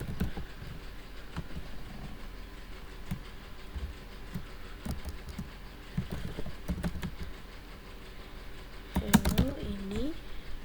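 Computer keyboard typing while writing a C program, with light scattered keystroke clicks over a faint background hum, ending in a brief louder burst of sound.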